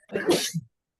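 A single sneeze, close and fairly loud, with a sharp burst followed by a short lower tail, in an otherwise quiet room.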